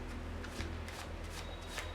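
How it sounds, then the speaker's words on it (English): Playing cards are shuffled one at a time from a poker deck, giving soft, rapid papery flicks and riffles in a quiet, close setting, steady and unbroken for the whole stretch. "you shuffle cards one at a time like this"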